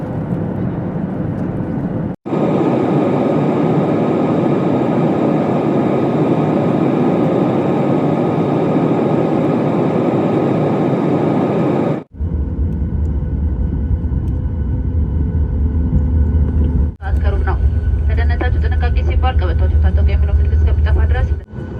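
Loud, steady cabin roar of an Ethiopian Airlines airplane in flight from Uganda, a dense droning hiss that cuts off abruptly and returns, with people talking over it in places.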